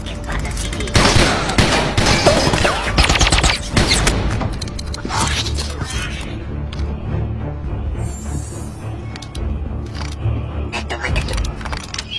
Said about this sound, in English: Shots fired the underdeck. Repeat, shots fired.